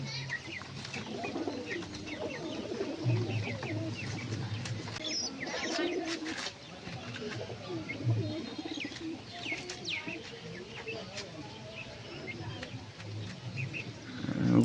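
Young pigeon cooing, soft and fairly faint at close range, with other light chirps and background noise and a voice speaking at times.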